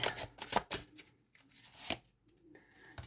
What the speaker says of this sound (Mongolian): За ингээд бүгдээрээ сонголтынхаа картуудыг гаргаж ирцгээе.